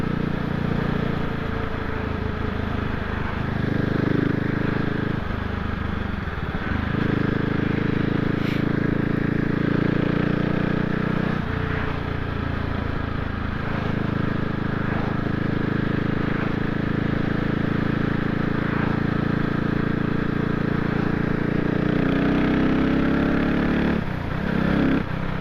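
CCM Spitfire motorcycle engine running steadily throughout a ride, a loud continuous drone with shifting pitch as the throttle rises and falls, with a couple of brief dips where the revs change.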